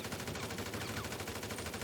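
Rapid automatic gunfire aimed at a giant pig boss in a video game, a fast, steady rattle of shots at moderate level lasting the whole brief moment, with no voices.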